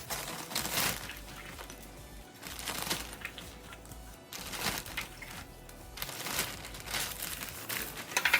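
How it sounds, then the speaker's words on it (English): About 250 grams of chocolate digestive biscuits tipped into a plastic Ziploc bag: quiet repeated crinkling and rustling of the plastic with small rattling bursts of biscuits, close up and without talk. "Here I have got 250 grams of chocolate digestives, which I'm just going to put in a Ziploc bag."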